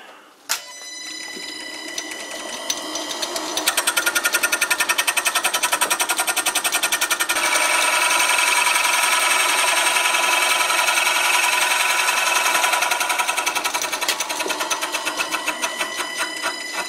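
A lathe with a sliding spindle runs up and turns a wooden test piece while a scraper made from a file on the cross slide trues it, giving a loud, steady rattling hum with a rapid rhythmic chatter that carries throughout.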